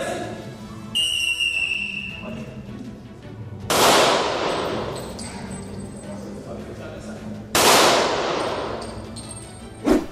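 At a police shooting range, a sharp whistle blast is followed by two loud, sudden gunshot cracks several seconds apart, each ringing out and decaying, with Portuguese speech in the background.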